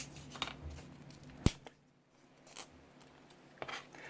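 A single sharp snip of scissors diagonally cutting a sorghum stalk, followed by a few softer cutting and rustling sounds in a quiet room.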